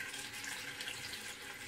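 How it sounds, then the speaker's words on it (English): Tap water runs steadily over a telescope mirror sitting in a plastic tub of water, giving a soft, continuous splashing hiss with no voices. "this is the mirror now inside the water and I'm running the water over it"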